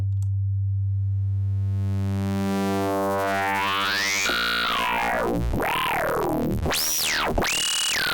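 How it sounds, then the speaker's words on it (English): A synthesizer tone begins as a pure, steady sine-wave hum, then sweeps upward and warbles in rising and falling pitch bends, growing brighter and buzzier. "Here's a sine wave to start."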